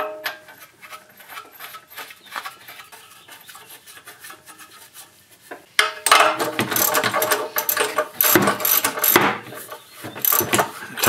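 Ratchet wrench clicking and rasping while spark plugs are changed on a gas 2007 EZGO TXT golf cart, quiet at first, then louder, busier mechanical scraping and ratcheting in the second half.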